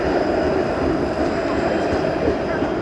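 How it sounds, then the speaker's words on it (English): A 506 Carlton streetcar rolls past on a Toronto street in autumn, a loud continuous rumble of wheels on rail, close and steady throughout. "There's a 506 Carlton streetcar,"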